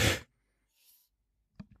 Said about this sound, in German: Jetzt muss ich auch noch niesen